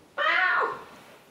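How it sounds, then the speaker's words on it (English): A cat gives a single clear, drawn-out meow close by, loud and alone, trailing off into a quiet room. "Cat!"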